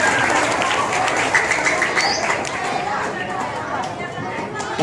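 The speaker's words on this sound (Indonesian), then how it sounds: "Ya, tepuk tangan." Schoolchildren clap together during a class activity, a fairly loud, continuous patter of applause mixed with chatter and voices throughout.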